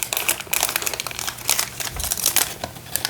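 Paper is folded into origami creases, giving continuous close crinkling and crisp snaps as sheets are pressed and bent, with no voice.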